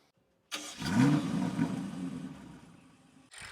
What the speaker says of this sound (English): When you first start the car, you can hear the aggressive V8 roar and come to life.